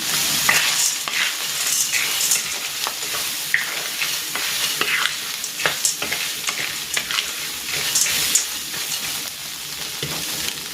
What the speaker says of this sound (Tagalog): Ilalagay ko na dito itong elbow macaroni.